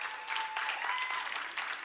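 An audience at a business sustainability conference session cheers and applauds, a dense burst of clapping with a few shouts, moderately loud and steady for a couple of seconds.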